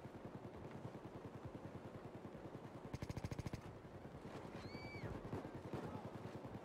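Rapid gunfire in Payday 2 during a heist on Death Sentence difficulty, with a dense burst of automatic shots that stands out loud and near over constant game noise, plus a brief electronic whistle afterward.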